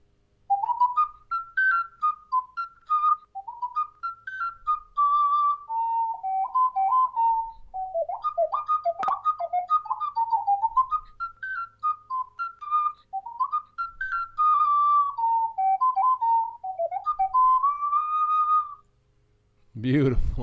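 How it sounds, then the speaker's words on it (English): Ocarina playing a melodic J-pop tune, a clear pure whistle-like line moving through phrases with short breaths between them, steady and close for about twenty seconds, ending with a brief sound at the very end. "I just know an ocarina piece from it"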